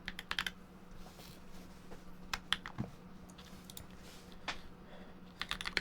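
Typing on a computer keyboard, the Sin model with weight toward one side, gives irregular bursts of crisp close keystroke clicks separated by short pauses over a steady low hum, with no talking.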